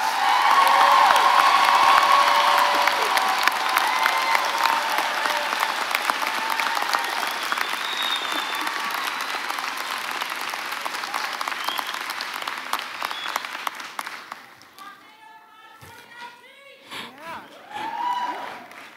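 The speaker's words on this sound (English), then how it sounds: "please give the graduates a round of applause" Audience at a Parker University health sciences and business graduation ceremony clapping loudly for graduates, a dense sustained ovation with some cheering that fades out, followed by faint murmuring and a brief voice.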